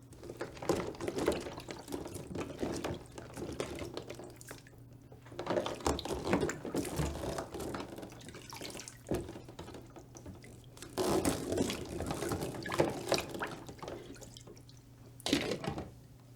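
Water from ventilator circuit hoses splashes and drips in bursts, pouring heavily for a few seconds at a time with quieter trickling and dripping in between.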